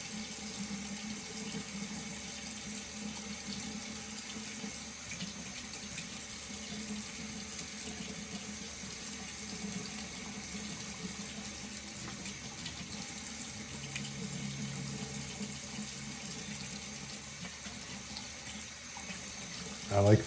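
A bathroom tap runs steadily and close by to rinse a razor blade during a shave, an even hiss of flowing water with a faint clatter at the very end.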